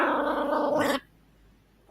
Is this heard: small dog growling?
yes